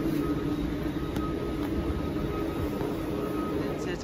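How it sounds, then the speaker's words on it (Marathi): A train passes through a station in Valencia, Spain, a steady low rumble and rolling rail noise that holds evenly throughout, with no voices. "train station"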